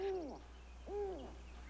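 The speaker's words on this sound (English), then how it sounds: "Them are just owls, Mingo" Owls hoot twice at night in a woodland frontier setting, each call a clear wavering tone, the first near 0.0–0.4 s and the second around 0.9–1.3 s, fairly close over a quiet low background hum with no talk.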